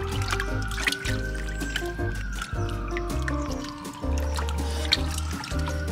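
Water pours from a hose into a small dog's pool, a steady splashing trickle with gurgling and dripping textures that continue without pause, close by and fairly loud, with little else heard.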